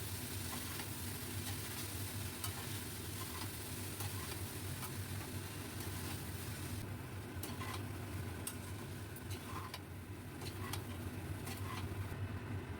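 Drained boiled rice for chicken-corn rice is stirred in a frying pan, a low continuous sizzle with light scraping and ticking from the utensil.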